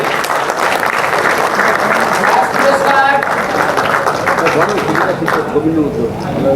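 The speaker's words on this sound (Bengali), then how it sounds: "জোর করে হাততালি।" A prize distribution ceremony in Bengal fills with loud, continuous crowd applause throughout, with an announcer talking over the clapping.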